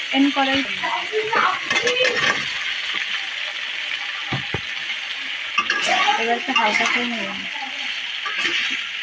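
Pre-cut vegetables stirred into hot spices in a pan after frying fish, with soft scraping and faint sizzle under scattered talk, and a couple of sharp utensil knocks.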